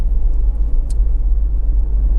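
Volkswagen Passat 1.9 TDI PD diesel engine idling, a low, steady, close rumble that stays even, with a faint click partway through.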